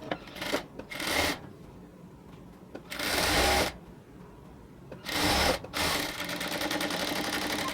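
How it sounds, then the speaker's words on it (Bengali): Close and fairly loud, a sewing machine double-stitches a salwar seam in several separate runs of varying length, with short handling rubs and quiet gaps in between. "ফার্স্টে একটা সেলাই দিয়ে এরপর আমরা আরও একটা সেলাই দিব"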